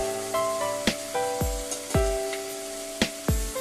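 Ginger, turmeric and garlic paste fry in hot oil in a home kitchen while cooking besan kadhi, a steady sizzle punctuated by sharp clicks and spoon knocks, with faint tonal music running underneath.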